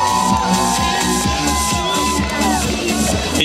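A loud crowd cheers, whoops and claps at an outdoor City Day concert in Obninsk. The sound is continuous and dense across the whole stretch, with a rhythmic low thumping underneath.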